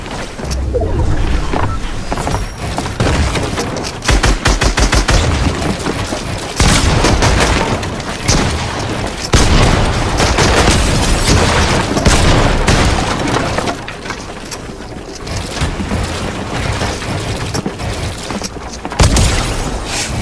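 Gunfire in a shooter video game, a dense continuous barrage of loud shots and booms filling the whole stretch, close and heavy with no talking.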